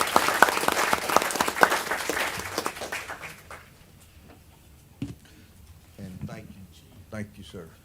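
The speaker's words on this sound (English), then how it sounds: "if you will give me a round of applause for these folks" An audience at a live-streamed event gives a round of applause. The clapping is full at first, then tapers away after about three seconds, and a voice takes over.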